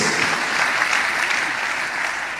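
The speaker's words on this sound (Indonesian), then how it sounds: "Tepuk tangan bagi Tuhan Yesus." A congregation at a Christian sermon bursts into applause, a short, dense, even wash of clapping heard alone.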